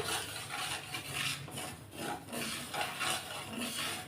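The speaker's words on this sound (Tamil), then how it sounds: "அடுத்ததாக ராகியை வறுத்துக்கலாம்" Ragi (finger millet) is dry-roasted and stirred in a pan, giving a close, continuous gritty scraping and rustling that swells and eases with each stir, with no voices.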